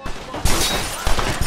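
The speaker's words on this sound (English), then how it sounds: "This revolver is a beast. It got a high rate of fire, yo." Revolver gunfire in the video game Red Dead Redemption: a few sharp, loud shots in quick succession, with bursts near the start and again about a second later, alone without talk.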